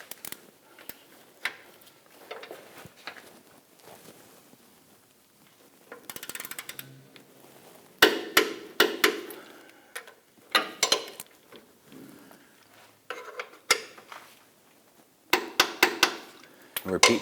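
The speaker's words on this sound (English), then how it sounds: "We're going to go ahead and torque down these bolts to 48 foot-pounds." Hand tools working on the differential mounting bushing bolts of a 2006-2010 Hummer H3 as they are torqued down, heard as scattered metallic clicks and ratcheting in short bursts between quieter pauses.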